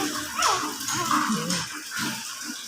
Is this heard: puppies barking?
yes